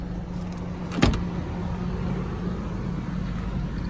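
Steady, low Toyota Avalon engine rumble heard from close by, with a brief sharp click partway through and no talking.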